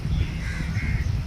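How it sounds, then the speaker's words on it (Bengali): A flock of birds outside the Cellular Jail in the Andaman Islands, with a nearby crow cawing over a busy, muffled background of low rumble. "কাছে এসে পৌঁছে যাচ্ছে এই সমস্ত পাখিরা।"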